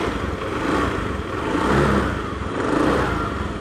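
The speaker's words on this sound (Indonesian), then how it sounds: "Kita akan coba hidupkan motor dulu." A Honda Beat fuel-injected scooter with an uneven, sputtering throttle response runs close by, its engine swelling and falling in a few revs under a rough, clattering idle.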